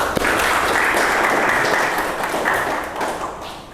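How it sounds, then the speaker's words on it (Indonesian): Audience applause fills a lecture hall at a teaching presentation, steady dense clapping from a crowd that holds loud for nearly four seconds before tapering slightly at the end. "Kita berikan aplaus."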